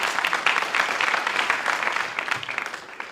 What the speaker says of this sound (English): let's give them all a little round of applause for joining us